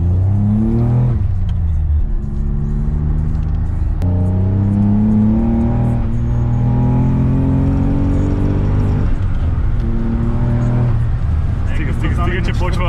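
Nissan 300ZX Twin Turbo driven hard from inside the cabin, engine revving up through gears with rising pitch sweeps and shift breaks, loud and continuous while occupants talk.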